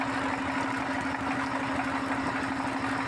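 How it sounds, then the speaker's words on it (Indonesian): A modified diesel engine drives a semi-modern rig drilling an underground water well, giving a loud, steady idling drone with a strong constant hum that runs without break and without voices. "Nah mesin diesel juga kemudian dimodifikasi, memutar dia."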